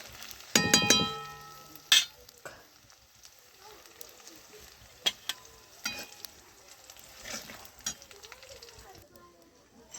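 Green chillies frying in hot oil give a steady low sizzle, broken by sharp metallic clinks of a utensil against the pan and a brief voice near the start.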